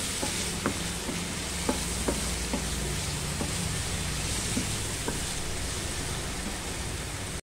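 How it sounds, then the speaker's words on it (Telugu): Spinach, peas and paneer cooking in ghee give off a dense, unbroken sizzling hiss with faint intermittent clicks of a spoon, close and steady throughout. "నెయ్యి వేసి కొంచెం నెయ్యి వేసి బాగా ఫ్రై చేసుకోవాలి"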